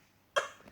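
A 16-week-old baby gives a single short, sharp cough, close and fairly quiet, after near silence.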